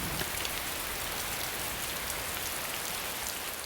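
Steady rain falls throughout, an even, dense patter on surfaces at constant moderate loudness with no voices.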